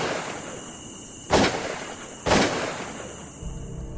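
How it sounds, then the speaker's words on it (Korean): Gunshots in an audio drama: two sharp, loud bursts about a second apart, each with a short decaying tail, over a quiet background and with no talking. "엑토르는 자기 뒤 어딘가에서 총알이 날아오는 소리를 들었고"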